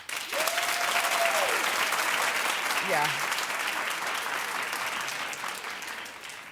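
Studio audience on a daytime talk show claps steadily in a dense, sustained burst, with a brief voice speaking over the applause partway through.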